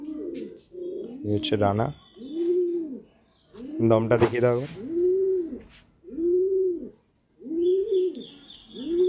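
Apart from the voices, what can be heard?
pigeons cooing while being shown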